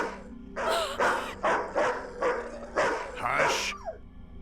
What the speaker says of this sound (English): He always barks at strangers.